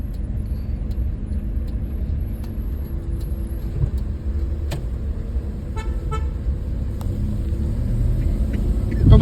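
Steady low engine rumble from inside a car moving slowly in first gear during a driving lesson, with occasional horn toots and ticking sounds; a voice speaks faintly at times.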